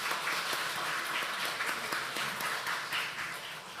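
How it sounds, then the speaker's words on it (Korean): A church congregation at a Sunday morning service applauds in a broad, steady wash of clapping that lasts a few seconds and fades slightly toward the end, with no voices over it. "우리 박수로 한번 격려하겠습니다."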